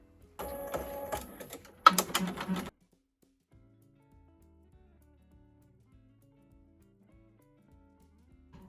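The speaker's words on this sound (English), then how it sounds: "start the machine so it could do another stitch to hold it in place" An embroidery machine runs a placement stitch on faux leather with a steady rapid whirring hum for about two seconds, then a louder second burst, then stops, leaving near silence.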